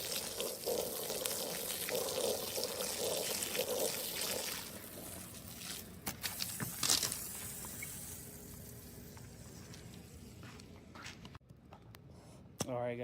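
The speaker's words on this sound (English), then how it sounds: "So now we're gonna wet down the microfiber so it easily glides across the rug." Water trickles and pours onto a microfiber cloth used for deep cleaning an area rug. The soft, steady flow lasts several seconds, then gives way to quieter handling noises and a few small clicks.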